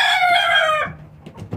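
A rooster crows loudly and close for almost a second, then cuts off, leaving quiet background rustles, at a backyard poultry flock in Oaxaca.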